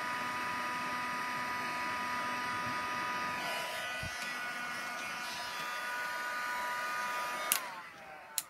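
A heat tool for embossing powder blows a steady, close electric whir from underneath the card, holding level for several seconds before cutting off with a couple of small clicks and knocks.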